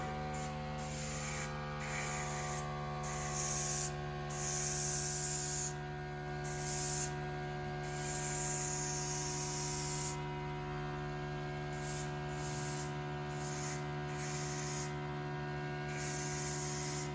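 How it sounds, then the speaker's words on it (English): Airbrush spraying weathering paint onto a 1600mm Flightline Spitfire model, a close hiss coming in repeated short bursts over a steady background hum, with no voices. "I'm going to start from the front and just angle the airbrush that way"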